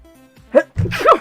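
A single close, forceful sneeze with a quick sharp intake before it, loud and abrupt against an otherwise quiet room.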